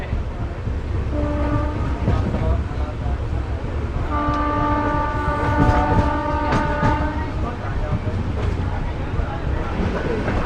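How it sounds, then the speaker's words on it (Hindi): Nangal Dam Express train rolling slowly into Rupnagar station, a steady rumble with clattering wheels and a sustained horn tone, close and continuous. "हमारी ट्रेन रूपनगर स्टेशन के आउटर पे पहुंच चुकी है।"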